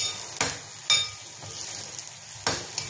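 Onion frying in oil until reddish-brown for a green chilli and peanut thecha, a steady soft sizzle broken by a few sharp scraping stirs, close and alone.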